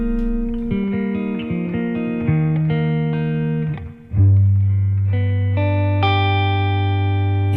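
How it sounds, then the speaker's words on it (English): A live band plays a song about Ybor City, with sustained electric guitar chords and melodic lines changing over several bars, loud and close, no singing yet. "here's a little song about Ybor City."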